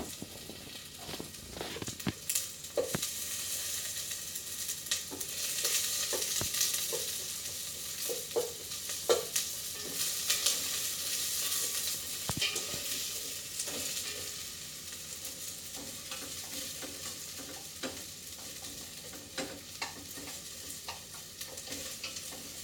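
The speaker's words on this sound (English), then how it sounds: "I'm going to go ahead and add my onions in there" Onions frying in a pan while being stirred, a steady sizzle under repeated scraping and tapping of a utensil against the pan, moderately close, with no speech.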